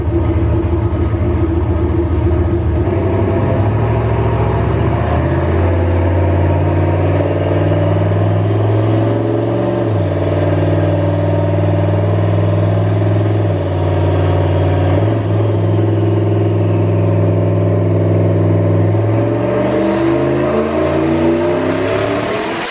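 A turbocharged LS-powered Chevy Nova engine revs hard on a dyno with the boost turned up, a loud continuous roar whose pitch climbs and settles several times, ending in a rising whine.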